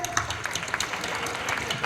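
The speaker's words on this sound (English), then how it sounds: "I request you all to clap for ourselves and our gathering. Please clap." An audience at a college function applauding briefly, a dense patter of many hands clapping at moderate distance.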